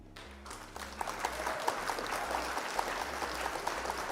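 A small group applauds at the end of a Warhammer tabletop game, steady scattered clapping filling the room for several seconds, moderately distant with faint chatter beneath.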